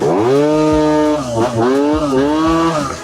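Small engine with a freshly tuned carburettor revving up and down in quick throttle blips, a close, loud buzzing drone that rises and falls without bogging.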